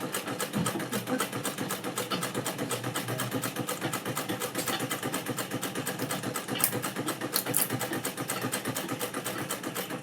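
A sewing machine runs steadily at close range, its rapid, even mechanical clatter continuing without pause for the whole stretch.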